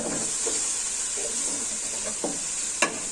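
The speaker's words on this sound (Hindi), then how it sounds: "हम इसमें टीस्पून से थोड़ा सा ज़्यादा लहसुन का पेस्ट शामिल करके मसाला अच्छे तरीके से भून लेते हैं" Onions and garlic paste frying in masala for spicy okra with yogurt, a steady close sizzle and hiss with a few soft stirring scrapes and one sharper clink near the end.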